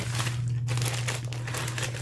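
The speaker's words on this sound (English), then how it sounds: "I like how it comes in this nice little plastic bag." A plastic bag holding a Stampin' Up calligraphy project kit being opened, steady close crinkling and rustling with a low steady hum underneath.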